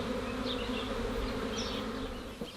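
A dense, steady buzz of many honey bees around a hive as the colony returns after a spring swarm, close and continuous with no talking.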